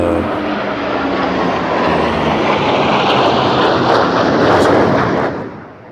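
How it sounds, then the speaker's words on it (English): Military aircraft roar overhead during a Trooping the Colour flypast, a loud continuous wash of engine noise that swells and then fades away at the end. "more planes are still coming"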